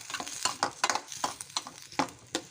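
Onions frying with ginger garlic paste in a pan for a restaurant-style capsicum gravy curry, with a quiet sizzle under repeated close scraping and stirring strokes at an uneven rhythm.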